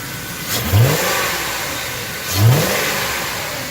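A 1997 Ford Expedition's V8 engine with a cold air intake idles with a deep rumble, then revs up twice in quick throaty bursts with a rushing intake whoosh, close by.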